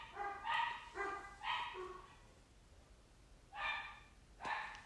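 Several dogs bark in the background of an indoor room, short bursts of barks in two clusters with quiet gaps between, moderately distant and fairly faint.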